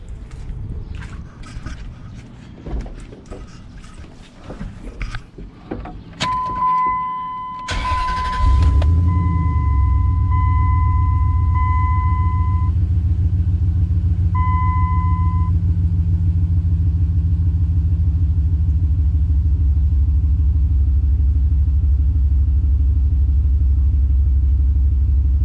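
A car engine cranks and fires up after a coil replacement, then settles into a loud, steady idle that runs on without break, with tool clatter and a couple of beeps heard just before the start.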